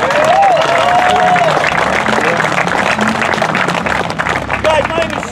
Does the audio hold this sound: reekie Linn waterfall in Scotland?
no